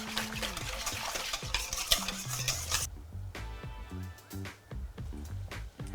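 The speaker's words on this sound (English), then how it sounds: "I'm now going to pour it over the top of my flour and milk solution that I made earlier, just whisking at the same time." Milk whisked into a flour and milk mixture for Portuguese custard tarts: a steady, busy run of rapid clicking and scraping whisk strokes against the bowl, close and continuous, softening partway through, with no talk.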